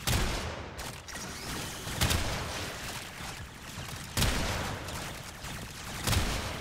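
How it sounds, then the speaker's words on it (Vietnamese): Constant gunfire from a weapon in the video game Warframe, a dense rapid stream of shots with several heavier booming blasts standing out at intervals, loud and without any talk. "Đấy, mình bắn bừa thôi."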